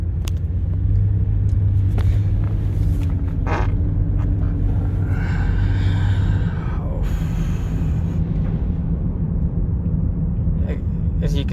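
Interior road noise from a 2008 Toyota Highlander driving over bumps: a constant low rumble with several short thumps and rattles as the suspension hits uneven pavement.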